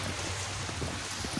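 Meltwater drips from a roof as snow thaws on a snowy morning in Zaporizhzhia, a few soft separate taps over a steady wet background hiss.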